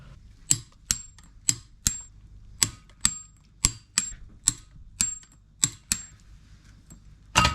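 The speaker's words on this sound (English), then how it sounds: "We've just put Loctite on all of our cut down flywheel bolts, and we're just about to torque them up to the factory spec, which is 114 newtons meters" Torque wrench clicking as it tightens Loctite-coated, cut-down flywheel bolts on a Mk1 Ford Fiesta's ST170 engine, giving about a dozen sharp, close metallic clicks at a steady, slightly irregular pace with no talk.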